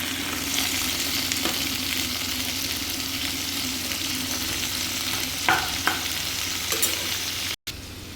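Onion sizzles steadily in a hot pan and is stirred, with a few scraping clinks of the utensil over an even frying hiss and no voices.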